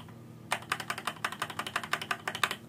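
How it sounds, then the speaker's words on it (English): The space bar on a Deep Cool KG722 mechanical keyboard is tapped repeatedly in a quick, uneven run of about twenty crisp, close clacks after a brief quiet start. "And check out the space bar."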